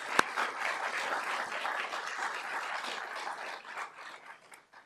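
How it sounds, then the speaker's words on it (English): Audience applause at a city State of the City event for a housing developer, a fairly faint, steady wash of many hands clapping from a distance that fades out at the end. "So please give MidPen a round of applause."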